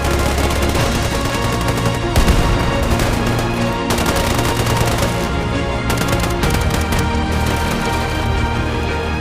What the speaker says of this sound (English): Fire at will.